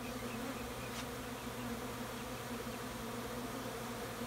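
Honey bees buzz densely and steadily around an open backyard beehive during a light inspection, a continuous close drone with no talking.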